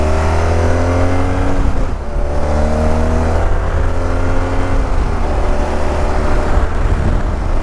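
A 110 horsepower motorcycle accelerates hard, its loud engine note climbing steadily in pitch, dropping as the gear changes, then climbing again, all close by with constant wind and road roar.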